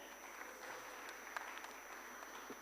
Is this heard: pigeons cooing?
no